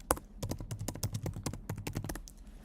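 Quick bursts of computer keyboard keystrokes as a search is typed, a steady run of close, crisp taps with a low hum underneath and no talking.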